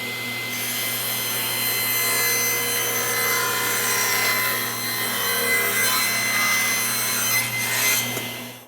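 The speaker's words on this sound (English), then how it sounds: "Now we're ready to plug the saw in and go ahead and make this cut off of this side." A table saw steadily rips a taper off a wooden board guided by a taper jig, a continuous loud whining cut with a steady motor hum throughout.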